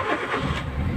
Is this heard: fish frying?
no